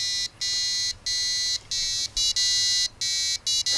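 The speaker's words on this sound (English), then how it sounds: "it plays a sound on the buzzer" An Arduino buzzer on a $2 expansion module plays the Darth Vader theme, a loud, shrill electronic tone in on-off bursts of varying length with short gaps between notes.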